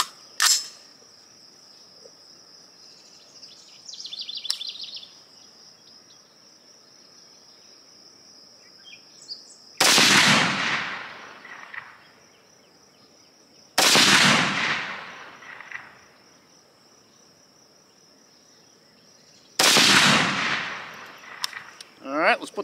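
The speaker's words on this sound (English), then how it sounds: "First up, let's shoot the 6 arc." Three loud, sharp 6mm ARC rifle shots ring out outdoors at wide, uneven intervals, each with a long decaying echo, while a high insect chirr persists in the quiet between.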